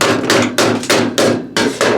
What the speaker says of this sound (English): just sort of hammer it in as I go